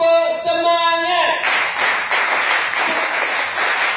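A group of students claps together in a steady rhythm, the busy crackle of many hands taking over right after a short, sung-out voice calls the cue.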